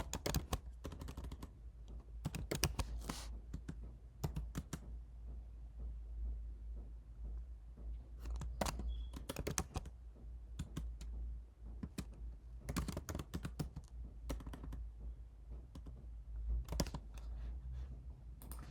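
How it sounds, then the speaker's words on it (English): Someone types on a computer keyboard while coding in C#, irregular bursts of quick clicks and key taps separated by short pauses, close but faint over a quiet low hum. "I'm not having a good typing day today."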